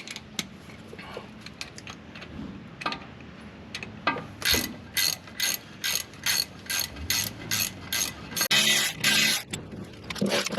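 Ratchet wrench turning a socket during junction box and U-joint repairs on a 2000 Ford F350 flatbed: faint clicks and handling noises at first, then a loud, regular run of close ratcheting bursts with no talking.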